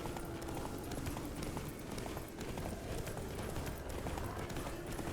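A horse gallops in The Witcher 3: Blood and Wine, its hooves striking in a rapid, steady clip-clop rhythm. The hoofbeats continue quietly under a dense layer of game sound, with no voices.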